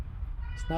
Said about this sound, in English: So that's our cat.